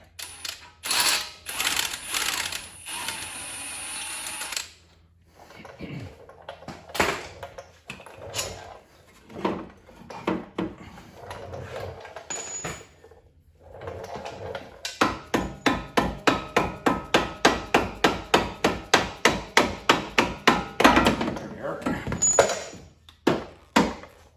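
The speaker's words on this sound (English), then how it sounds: "Now let's just remove the lower bolt, and we should be able to pull this whole assembly out" Bolts and the lower shock assembly being removed from a Mustang, with irregular metallic clicks, knocks and clatters, then a long run of fast rhythmic ratcheting clicks, close and fairly quiet.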